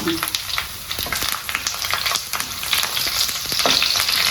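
Loud, steady sizzling and crackling of green chilies and curry leaves frying in hot oil, with bursts of spattering throughout and no talking.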